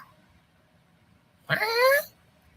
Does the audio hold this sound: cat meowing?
yes